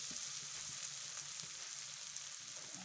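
Food frying under the lid of a covered tagine, heard as a steady soft sizzle with faint crackles, fairly quiet and continuous with no one talking.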